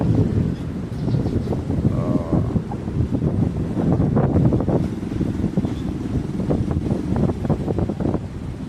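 Strong typhoon wind roars across the microphone over the sea at Surigao City during Typhoon Basyang, with waves churning underneath in a steady, dense rumble; a voice briefly exclaims.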